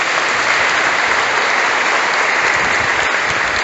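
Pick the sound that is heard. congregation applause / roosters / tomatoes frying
congregation applause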